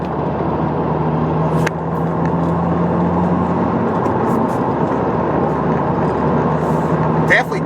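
A 2019 Subaru WRX Premium with Performance Pack hustled through corners, steady engine and road rumble from inside the cabin with occasional brief clicks, with a voice speaking over it.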